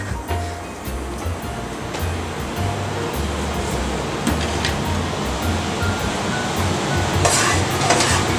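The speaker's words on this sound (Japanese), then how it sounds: "肉を炒めます。" Meat stir-fries in a pan while making udon, a steady loud sizzle with scraping and stirring noises throughout, growing slightly louder toward the end.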